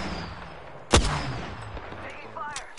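A single sharp gunshot in the Apex Legends video game, loud and close, set against a low rumbling background with a fainter crack near the end.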